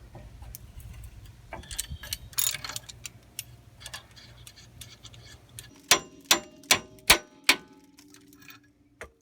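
Metal clanks and clicks from work on a 15mm sway bar bolt under a Trailblazer's front end, then a run of five sharp, evenly spaced ringing ticks close by, like a ratchet or wrench striking, with no talk.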